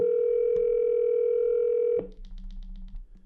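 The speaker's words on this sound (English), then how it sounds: "Calling Mom's mobile." An Amazon Echo placing a phone call sounds a steady, loud dial-style tone for about two seconds, then it cuts off to quieter, rhythmic pulses and low hum.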